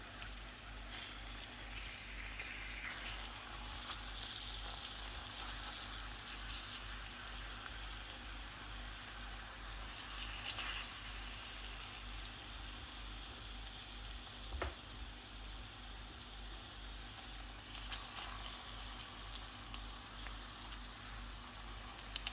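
Eggs frying in a pan for a Spanish tortilla over low heat, giving a constant, even sizzle with faint crackles throughout, close and steady with no talking.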